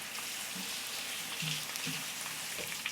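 Ground meat for American goulash sizzles in a pan as it finishes cooking, a steady crackling fry with small pops and faint clinks, fairly quiet and close.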